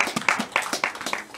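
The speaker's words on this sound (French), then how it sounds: "Pour qu'on peut applaudir pour Dieudonné Foku." Light applause at an art exhibition opening, a small gathering clapping in a loose, uneven rhythm of distinct close hand claps, fairly quiet and brief with no voices on top.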